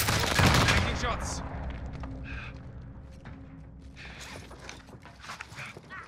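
Gunfire crackles during a battle royale video game, with a loud burst of shots at the start and scattered, fainter reports after it over a mechanical game background, while voices are faintly present.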